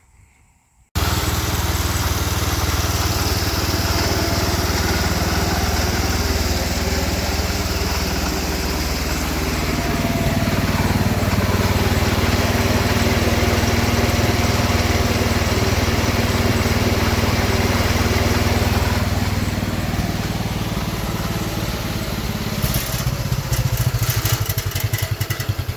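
Engine of a John Deere 112 lawn tractor running steadily, a loud, close, buzzing single-cylinder drone with slight shifts in pitch partway through and a brief rattle near the end.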